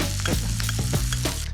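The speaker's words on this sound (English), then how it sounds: "foaming butter" Butter foaming and sizzling in a pan around skin-on walleye fillets, a dense, close, continuous frying hiss with no voices.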